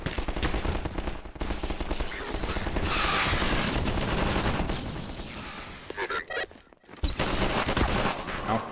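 Gunfire from Half-Life 2 on PS3: dense bursts of automatic shots and rapid volleys crackle almost continuously, with a brief lull near the end before firing resumes, under a busy game soundscape.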